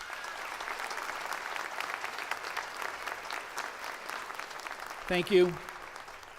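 A commencement audience applauds the graduates with steady, moderately distant clapping that fills the hall, and a voice speaks briefly near the end as the applause continues.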